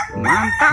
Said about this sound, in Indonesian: Yang ini ada ayam berkokok.